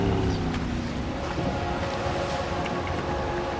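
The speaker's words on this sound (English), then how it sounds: "I'm gonna cut the engine. Glide in." A boat engine in the video game Max Payne 3 drones steadily as the craft glides in, a continuous low rumble with water and wind noise throughout, no talk.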